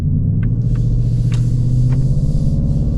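A 2026 Ford Mustang GT Convertible engine rumbles loud and close, a deep steady V8 burble with a few faint ticks over it.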